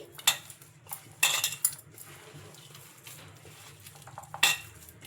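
Peanuts are mixed and pressed together with potato and spices in a bowl, making a few sharp clinks and rattles of nuts and utensil against the bowl over a soft background, close with no talk.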